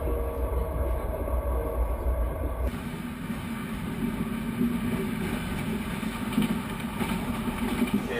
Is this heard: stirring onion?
no